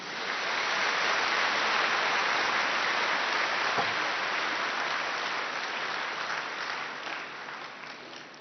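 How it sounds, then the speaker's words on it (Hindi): Loud, sustained applause from an audience at a spiritual gathering, a dense wash of many hands clapping steadily for the full stretch and tapering only slightly near the end. "जोरदार ताली बजाइए।"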